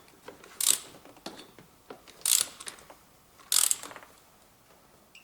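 Torque wrench set to 11 newton meters ratcheting while a compression tester is fastened into a Mercedes OM651 diesel engine, with three sharp clicks amid quieter ratcheting ticks, close by.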